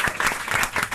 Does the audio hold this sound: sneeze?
no